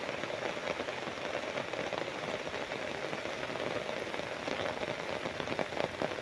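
Rain falls steadily outdoors on rural land near a river, a continuous close hiss of drops pattering on surfaces with no voices.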